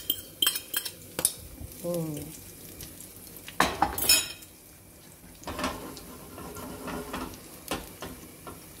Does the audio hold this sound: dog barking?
no